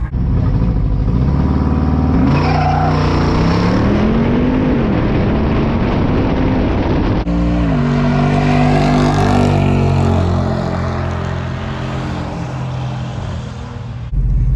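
Jeep Wrangler Rubicon 392 on massive tires drag racing a tuned BMW M4 at a strip: loud V8 engines roaring and revving through rising gear changes, a shift break near the middle, then a sustained high-rpm pull fading slightly at the end.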